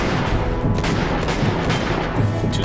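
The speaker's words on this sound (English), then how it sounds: "Use blind fire to push him back while staying safe yourself behind cover." Dense gunfire crackles through a firefight in the PlayStation Vita game Uncharted: Golden Abyss, blind fire from behind cover with booming low-end blasts, loud, close and continuous.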